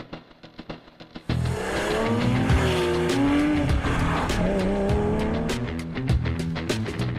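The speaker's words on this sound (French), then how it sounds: "La Porsche 911 est célèbre essentiellement pour sa silhouette emblématique et pour son moteur 6 cylindres à plat" A Porsche 911 with a flat-six engine drives hard, its engine roaring steadily while the tires squeal in long sliding bursts, loud and close after a few short knocks at the start.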